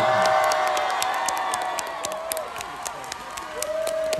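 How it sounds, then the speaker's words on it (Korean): Audience clapping and cheering at an outdoor university festival concert on a rainy evening, continuous applause with whoops and shouts from the crowd, fairly loud and steady throughout. "완벽한 연주를 보여준 저희 멤버들에게 박수 한번 주시면 좋겠습니다."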